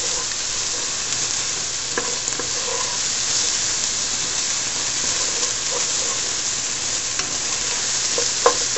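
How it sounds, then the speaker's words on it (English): Garlic and thyme being stirred into cooked-down mushrooms in a pan for barley risotto, a soft continuous sizzle under repeated spoon scrapes and clinks, close and alone. "we're going to add the garlic and the thyme and give that a good stir"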